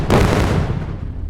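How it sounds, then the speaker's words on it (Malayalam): A bomb explosion in a Malayalam comedy sketch: one loud, close boom that hits at once and decays over about a second. "ഇപ്പൊ ബോംബ് പൊട്ടും"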